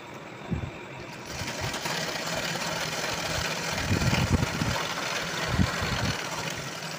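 A sewing machine attaches lining to a blouse sleeve, running as a steady mechanical whir throughout with a few soft thumps, no voices.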